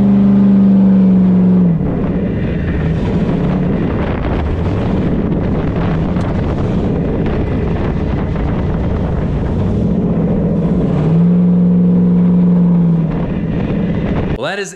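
A Jeep Wrangler race build driven off-road, its engine a loud sustained drone with rising and falling revs, heavy wind buffeting and rumble through the whole run, and a short spoken remark over it.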